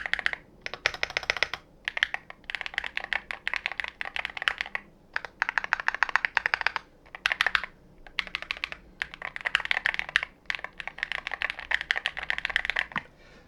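Rapid typing on a Chillkey Slice 68 HE magnetic switch keyboard in bursts, crisp clacky keystrokes with short pauses between runs, close and clear with no talking.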